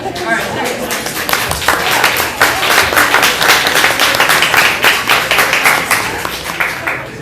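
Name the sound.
audience applause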